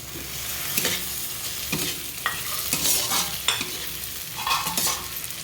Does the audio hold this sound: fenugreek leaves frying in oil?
yes